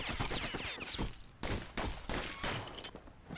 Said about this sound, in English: Dang machine gun plant.